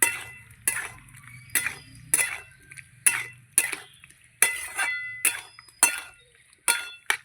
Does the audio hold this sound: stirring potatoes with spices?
yes